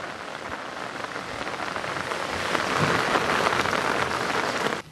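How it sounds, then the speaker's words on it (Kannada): Heavy monsoon rain pours down in a dense, steady roar over flooded Bhagamandala in Kodagu, swelling louder toward the end before cutting off abruptly. "ಕೊಡಗು ಜಿಲ್ಲೆಯಾದ್ಯಂತ ಕಳೆದ 2 ದಿವಸಗಳಿಂದ ಧಾರಾಕಾರ ಮಳೆ ಆಗ್ತಿದೆ"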